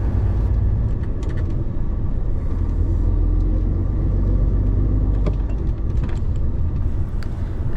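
Local cars drive past on a narrow rural street in Spain, a loud steady engine rumble with passing tire noise that fills the whole stretch, close by and continuous.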